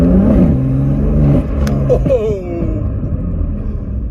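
A BMW M4 running an MHD stage 2 tune accelerates hard with a loud, deep engine roar and tires spinning, the note rising and then easing into a rumble as a man exclaims briefly.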